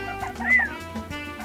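Backyard chickens in an off-grid desert homestead give a short, close cluck with a rising squawk in the middle, loud and alone.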